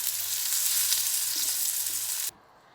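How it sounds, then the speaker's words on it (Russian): Slices of persimmon sizzle in a grill pan with a little oil, a steady bright hiss with faint low knocks from the pan until the sizzling drops away suddenly near the end. "мы пожарили нашу хурму на сковородке гриль"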